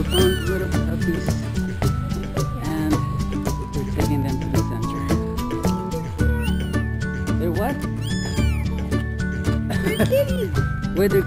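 Several small kittens mew repeatedly in high, thin overlapping cries, close by, with voices talking now and then among them.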